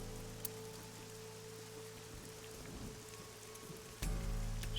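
Pouring rain in the video game AI: The Somnium Files, a steady dense hiss of falling water on a surface, faint and continuous with no talking, growing slightly louder near the end.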